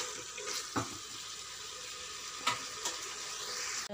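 Mutton frying in oil over a medium stove gives a continuous, fairly soft sizzling hiss, broken by a few brief scrapes of stirring.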